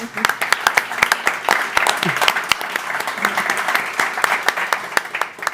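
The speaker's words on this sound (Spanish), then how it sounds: "os pido un aplauso para él" An audience at a live talk about a true-crime series gives sustained, dense applause, a steady wash of many hands clapping throughout.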